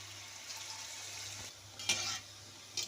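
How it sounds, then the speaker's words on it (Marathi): Cabbage Manchurian balls frying in oil over a medium flame, giving a steady soft sizzle with a few brief louder crackles and pops, nearby and with no voices. "अशा पद्धतीने आता आपण असे मंचुरियन तळून घेणार आहे।"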